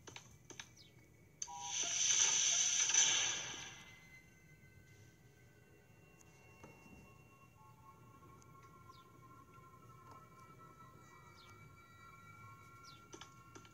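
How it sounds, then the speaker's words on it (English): An elevator in the horror game SCP Containment Breach sounds a brief bright chime-like hum lasting about two seconds, then the scene settles into a faint low ambient drone with scattered small ticks. "Just heard the elevator."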